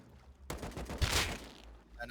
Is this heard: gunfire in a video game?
yes